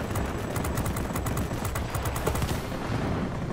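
Aircraft machine guns on the XF5U fighter in World of Warplanes, firing a fast continuous rattle over a heavy engine drone, loud and close, then cutting off near the end.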